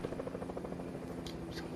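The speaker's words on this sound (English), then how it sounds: "Watch out, we got a helicopter." A helicopter in the video game Fortnite drones as a steady, fluttering rotor chop throughout, moderately loud beneath the game's other noise.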